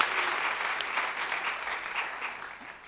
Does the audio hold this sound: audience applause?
yes